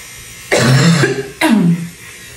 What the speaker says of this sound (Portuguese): Olha que tosse